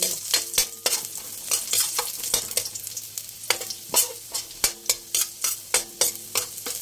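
Garlic sizzles in hot oil in a pan for a simple miswa noodle and sardine dish, with a continuous bright frying hiss broken by rhythmic scraping stirs against the pan, close and clear, no voices.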